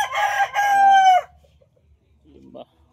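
A rooster crows loudly and close, one long drawn-out call, followed by soft clucking and faint rustling in the background.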